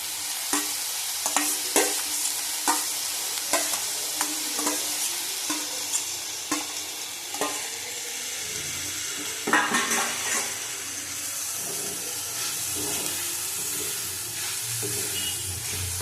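Chicken for momo being stirred in a hot pan, a spatula scraping and knocking in a steady rhythm over a continuous loud sizzle, close up, later settling into a steadier steamy hiss.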